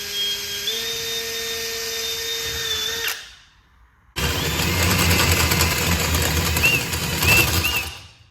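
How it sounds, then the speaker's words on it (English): A power drill with a hole saw spins up and cuts into an aluminum part clamped in a vise. Loud, close whirring breaks off partway, goes quiet for a moment, then comes back as a harsher, grinding cut with squeals. "let's go ahead and get this thing over to the vise and get a hole saw on it."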